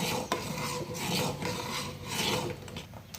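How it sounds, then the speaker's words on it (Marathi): Spoon scraping the bottom of a pan while stirring thickening basundi, a continuous raspy rubbing close by that swells and fades with each stroke, with no talk over it. "असं चमच्याने ढवळायचं आणि करायचं"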